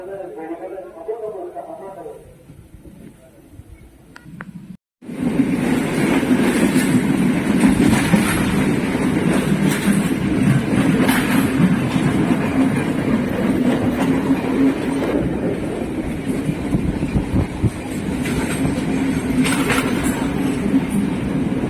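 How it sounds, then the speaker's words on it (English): Train in Sri Lanka rumbling and clattering loudly on the rails from onboard, with wind buffeting the microphone; a quieter moment is followed by a sudden cut into steady heavy rolling noise, and someone talks throughout. "So the train has just stopped here"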